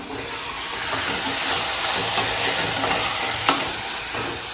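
Ginger, garlic and drumstick pieces fry in a pan with a loud, continuous sizzling hiss as they are stirred, with an occasional faint scrape.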